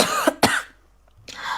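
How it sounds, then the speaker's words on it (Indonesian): Two sharp, close coughs in quick succession, then a short pause and a breathy throat sound, with no talk. "Kok batuk ya?"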